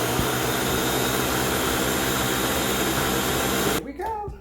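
A blender on its puree setting whirs loudly and steadily as it purees sea moss gel, a dense motor roar that runs unbroken before cutting off near the end, leaving quieter handling sounds.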